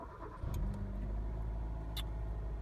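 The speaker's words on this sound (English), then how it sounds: "Go ahead and start the car." A car engine cranks and catches about half a second in, then settles into a steady, close idle for the rest of the clip, heard in a garage during a check for pending fault codes, with no talk.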